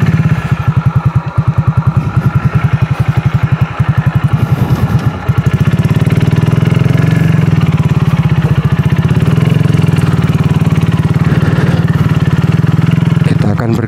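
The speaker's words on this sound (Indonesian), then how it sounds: "Sambil manasi motor." A motorcycle engine idles steadily while warming up beside a tent at a damp campsite near Coban Rondo, with a low continuous putter that stays loud and close throughout.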